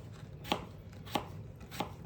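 A knife chops potatoes into cubes or slices on a cutting board in a home kitchen, with three crisp, evenly spaced cuts against a quiet background.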